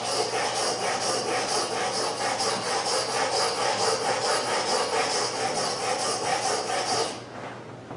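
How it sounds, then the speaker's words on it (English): A steel chisel, badly abused and dull, is rubbed back and forth on a sharpening stone in a steady, continuous gritty scrape. The scraping holds fairly close and even, then drops away near the end. "You rotate the stones, you're using the whole surface of the stones."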